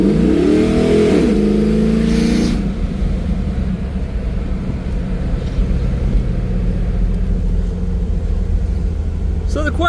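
An LS-swapped 5.3 V8 in a 1991 Pontiac Trans Am convertible revs briefly, then settles into a steady, close, low idle rumble that runs to the end.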